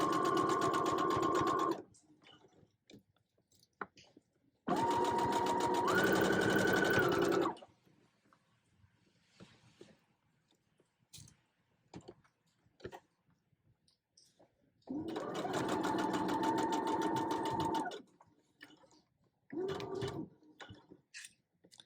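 A sewing machine stitches a hoodie seam in three bursts of fast, even, rattling stitches, close and loud, with quiet pauses and soft clicks between runs.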